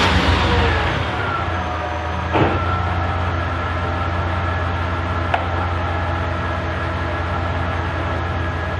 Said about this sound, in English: First you want to start the engine.